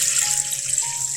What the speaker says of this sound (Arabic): هنحط الميه